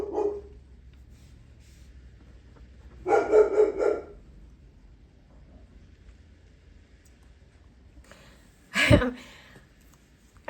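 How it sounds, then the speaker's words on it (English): A house dog barks at a FedEx delivery: one short bark, then a burst of rapid excited barks, a pause, and a final loud sharp yelp-like bark, close by indoors with quiet between and no talk. "FedEx showed up, so the dog went nuts"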